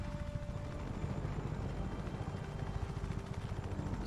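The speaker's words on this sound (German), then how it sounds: "Man ist ja so schnell mit dem Helikopter da." A helicopter flies in the video game Just Cause 3, giving a faint, steady rotor thrum with rapid low chopping pulses. The sound is continuous and distant, with no speech.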